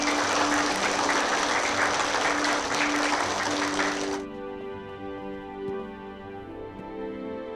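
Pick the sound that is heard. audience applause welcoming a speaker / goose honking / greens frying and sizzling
audience applause welcoming a speaker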